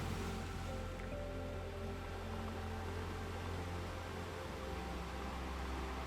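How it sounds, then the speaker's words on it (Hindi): Ocean waves on a sandy beach produce a continuous, dense wash of surf noise with a steady roar and no distinct breaks, heard alone and fairly loud throughout. "लहरें आ रही हैं"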